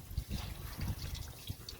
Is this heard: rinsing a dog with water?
yes